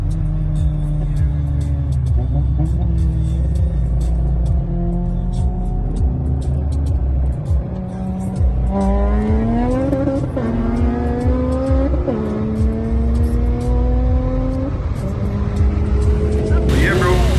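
Supercharged engine of a 9th-generation Honda Civic Si revving hard on the street, climbing through repeated rising pulls with whining harmonics, loud and close, while people talk over it.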